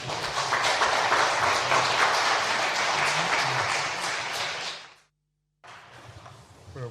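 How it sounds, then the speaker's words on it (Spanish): An audience at a literary talk gives dense welcoming applause that holds steady for about four seconds and then tapers off. A short silence follows, then quieter room noise resumes. "pedirles un aplauso de bienvenida a este trío de amigos"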